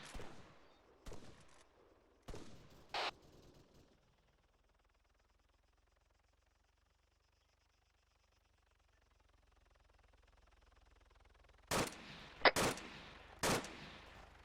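Video game gunfire aimed at a police officer: a few sharp shots early, a long quiet stretch, then a closing burst of three loud, crisp reports.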